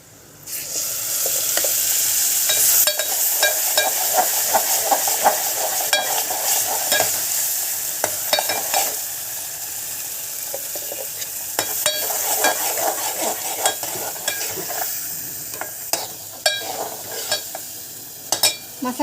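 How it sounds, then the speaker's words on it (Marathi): Ground coconut masala paste is sautéed in a pan. It gives a loud, close sizzle with continuous scraping and stirring clicks from a spoon, and keeps going unbroken with no speech. "मसाला आपण 5 मिनिटं परतून घेऊ"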